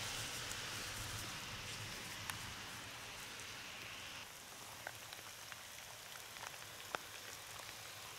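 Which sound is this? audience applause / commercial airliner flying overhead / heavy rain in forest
heavy rain in forest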